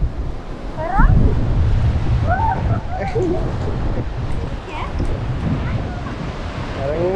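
Sea waves wash onto the shore at Payyambalam Beach, a steady low surf roar with wind buffeting, as people chat nearby and birds call briefly.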